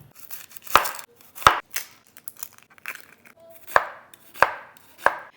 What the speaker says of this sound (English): I'm going to start slicing up some onion